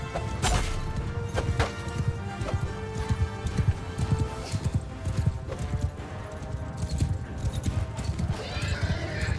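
Horse hooves clip-clop at a gallop in the Realm of Thrones video game, a steady rapid pounding rhythm close by amid clashing combat thuds and an occasional whinny, with a voice talking over it.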